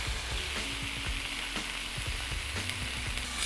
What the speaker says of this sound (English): It's sizzling, things are happening.